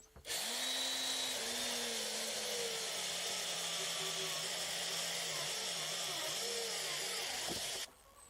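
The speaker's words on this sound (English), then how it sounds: "I'm just going to carry on drilling all the way around" A power drill bores holes into a vertical strawberry tower planter, its motor whining continuously for about seven seconds with slight shifts in pitch as it bites into the material, then stopping abruptly.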